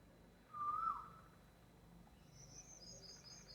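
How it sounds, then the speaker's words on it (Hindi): An Asian koel calls from hidden cover in a tree, giving one short whistled note, then faint high chirps later, over a quiet outdoor background. "आप कोयल की आवाज़ सुनिए।"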